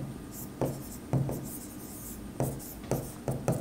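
Pen strokes scratch across paper in a ledger-style accounting exercise, coming in short, separate bursts with pauses between them, close and fairly quiet, with no talking during the writing.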